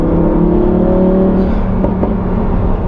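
A V10 car engine drones and whirs steadily up close, with a couple of brief sharp crackling pops from the exhaust near the end.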